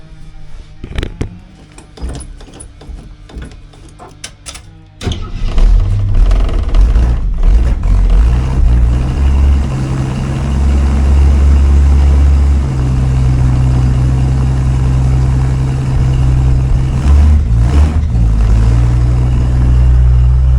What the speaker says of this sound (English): Sounds way better with the muffler on it.